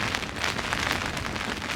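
Steady rain pours down, a dense hiss of drops striking surfaces without pause.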